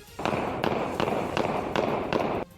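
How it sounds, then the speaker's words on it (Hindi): An AK-47 rifle and pistols are fired into the air on a street in Pakistan, heard as a dense, loud crackling volley of rapid cracks with six strong bursts. "एक वकील सड़क पर चलते हुए AK-47 राइफल से हवा में अंधाधुंध फायरिंग करता नजर आया"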